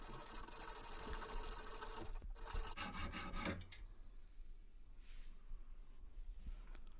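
A hacksaw cuts through clamped metal bolts with a close, continuous rasping stroke that stops abruptly, leaving faint workshop background.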